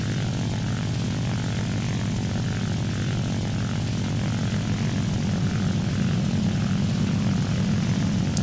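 Propeller aircraft engine in the War Thunder video game drones loudly and continuously, a dense steady roar with no breaks or talk.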